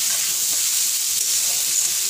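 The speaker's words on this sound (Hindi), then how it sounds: "अब इसे हम इसी तरह से फ्राई कर लेंगे" Jackfruit pieces fry in a hot pan with a constant close sizzle and bright hiss, unbroken and even for the whole moment, no talking.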